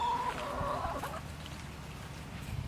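Pasture-raised chickens clucking close by, a burst of calls at the start that fades into quieter low clucks and rustling, with no talk.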